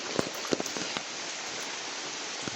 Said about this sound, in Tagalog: Straight na yung ulan